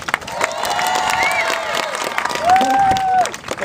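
Crowd of onlookers at a beach performance clapping and cheering together, a steady burst of applause with shouts and whistles rising over it, fairly near.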